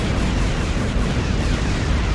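Torpedoes launched and exploding in a video game, a loud, sustained rumbling blast filling the whole moment with dense low-end roar and no voices.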